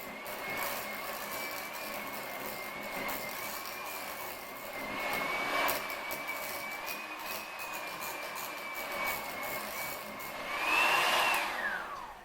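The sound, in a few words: electric mixer whipping cream cheese frosting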